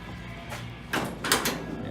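A door is pulled open with a couple of quick clunks and a short rattling slide over a low background hum.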